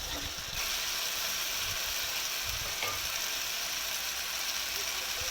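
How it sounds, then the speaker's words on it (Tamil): Beef cooking liquid, about half a cup poured into a pan and brought to a boil, bubbles and sizzles in a steady, dense hiss for the whole stretch. It is fairly soft, and a brief clink comes near the start. "இது நல்லா கொதிக்கட்டும்."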